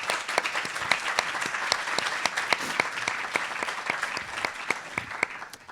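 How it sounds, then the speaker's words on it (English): Audience applause at a keynote reception, a steady wash of clapping with crisp individual claps popping out, sustained and even from start to finish. "Another round of applause."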